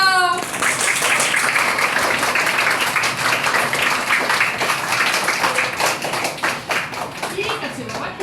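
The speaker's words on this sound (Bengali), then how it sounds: "হাততালি দাও।" A roomful of schoolchildren claps in a primary maths class, a dense, steady burst of many small hands that runs for several seconds and thins toward the end, with a voice briefly heard at the start.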